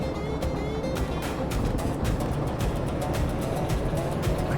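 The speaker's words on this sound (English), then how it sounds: "the game is a little bit loud, but that engine sound" A video-game train engine gives a steady, loud rumbling drone with faint rhythmic clicks. The train is pushing fast through a station, and the sound runs continuously with no break.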